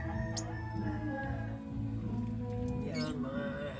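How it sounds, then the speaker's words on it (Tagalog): A pet African bird calls with a few soft, high, crowing-like notes, fairly faint, over a low steady background hum. "African bird ko"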